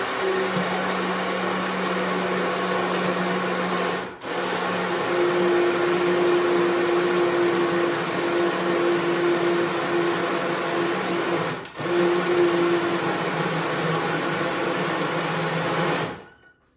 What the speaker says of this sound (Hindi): so now it's ready to get blended